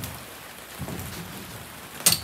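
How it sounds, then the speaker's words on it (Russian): Rain falling outdoors while a greenhouse frame is put up, a soft steady patter with a sharper burst of drops near the end. "Дождичек нас догнал."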